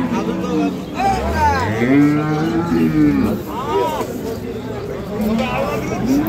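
A dairy cow lets out long, loud moos close by, while a crowd chatters and voices carry in the background of the busy Ambari cattle market.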